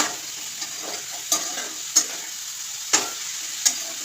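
Mushroom curry sizzles steadily in a pan while a spoon stirs it and taps the pan about four times with sharp, close clicks.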